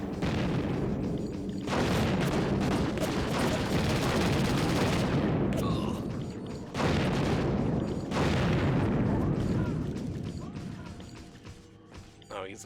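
Turrets blaze away in the video game Project Eden, with dense, roaring bursts of gunfire and crashing impacts that run nearly continuously, break off briefly twice, and then resume before tapering off.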